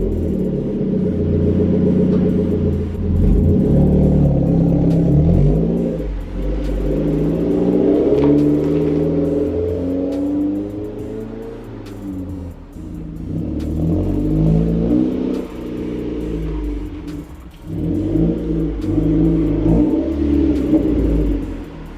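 A Mazda 3 car drives and accelerates, its engine rumbling and revving up in repeated rising surges with gear changes, steady and close with no talk.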